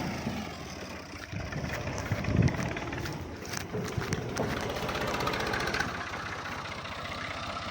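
A tractor engine idles with a steady, rough, mid-low drone that runs without a break, out in a Pakistani village setting between jungle and river, with a few bumps and knocks over it.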